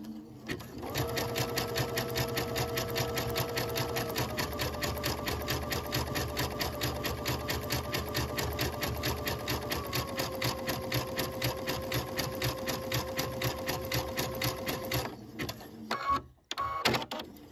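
A Baby Lock sewing machine with an edge joining foot stitches two pieces of batting together, making a fast, even mechanical rattle up close that holds for about fifteen seconds and then stops.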